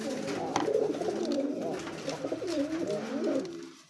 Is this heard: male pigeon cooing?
yes